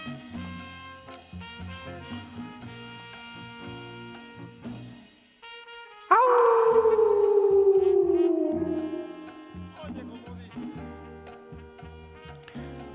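Piano notes play, then a dog lets out a loud, sliding howl lasting a few seconds before the piano carries on alone.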